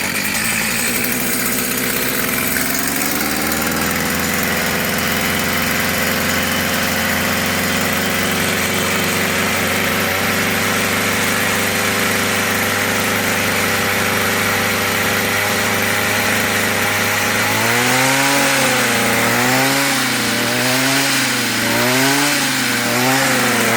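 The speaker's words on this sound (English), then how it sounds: "let's go ahead and start this thing up and see how it runs" A Stihl string trimmer with a newly replaced carburetor starts and settles into a loud, close, steady idle, then revs up and down in repeated rhythmic surges near the end.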